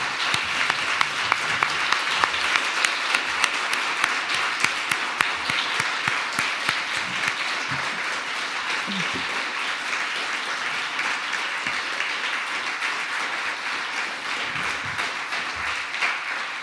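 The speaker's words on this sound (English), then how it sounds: "please join me in giving them a warm round of applause" An audience at the 2021 Australian of the Year Awards ceremony for the Australian Capital Territory applauds four standing nominees, with dense, steady clapping that holds at an even level throughout and no talking.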